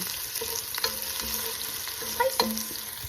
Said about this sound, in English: right now we're gonna be cooking our